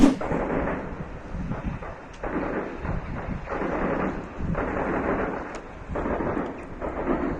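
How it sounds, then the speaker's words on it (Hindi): A Russian tank fires its gun at the front line in the Sumy region, producing a series of heavy, rolling booms that swell and fade every couple of seconds over a continuous distant rumble. "सूमी के इलाके में रशियन टैंक घुसकर सीधा सामने यानी फ्रंट पर ही फायर कर रहे हैं"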